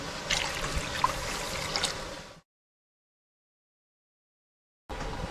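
Two and a half bowls of water trickle and splash steadily into a cooking vessel for a couple of seconds, then stop abruptly; after a silent gap the flow briefly resumes.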